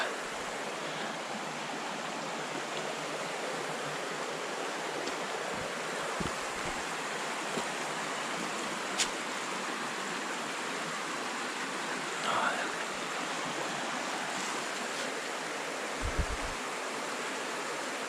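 A mountain river in the Carpathians rushes in a steady, broad roar that holds for the whole stretch, with a few faint knocks and clicks nearby.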